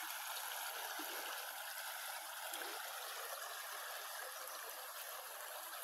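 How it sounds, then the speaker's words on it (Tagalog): A mountain creek in General Nakar, Quezon flows in a steady, even rush of water, close and continuous, with no voices over it. "Yan po ang sapa na yan."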